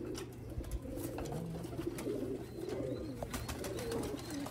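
Sialkoti rooftop pigeons coo in low, rolling, overlapping calls, close and steady throughout, with no one speaking.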